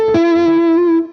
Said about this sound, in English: there's like a little bit of like a tendency in the Boogie amps that their distortion channel sounds more like a fuzz